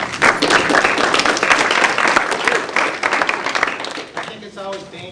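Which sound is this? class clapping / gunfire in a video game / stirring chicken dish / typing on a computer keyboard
class clapping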